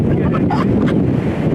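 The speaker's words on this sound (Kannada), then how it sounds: "ದೊಡ್ಡ ಅಲೆಗಳು ಬರ್ತಾ ಇರೋದಕ್ಕೆ" Big sea waves surge and crash at Dhanushkodi, a loud continuous roar of churning water with heavy wind buffeting the microphone, close and unbroken.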